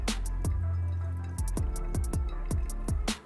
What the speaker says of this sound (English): Now I'm doing a circle pour to agitate the coffee